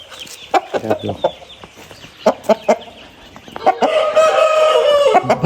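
Rooster crowing loudly and nearby, with sharp clucks and squawks from a Korean breed of fighting cock, the clucks coming in short bursts before a long crow at the end.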